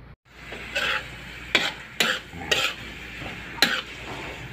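Onion and garlic sautéing in a pan for Ilocano pakbet, with several sharp stirring scrapes and utensil clicks over a soft frying hiss, close and moderately loud, no talking.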